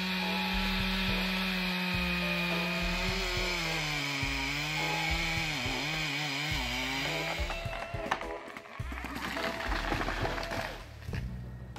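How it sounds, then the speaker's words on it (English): A tree harvester's powerful saw cuts through huge, long-standing trees up to 48 inches in diameter, giving a loud, steady mechanical whine that wavers in pitch and turns rougher and more broken near the end. "the advanced saw handles majestic, long-standing giant trees"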